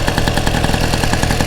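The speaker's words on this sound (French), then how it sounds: "Donc là le moteur il est engagé, donc si on le fait tourner, ça entraîne la roue" Solex 6000 moped engine running with the motor engaged to drive the wheel, a close, loud, rapid rhythmic putter with a steady clattering pulse and no talking.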